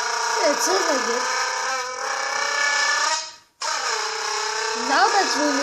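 A kid imitates a Lamborghini engine with his voice, producing a sustained, buzzing revving tone that rises and falls, briefly cuts out, then resumes and climbs again.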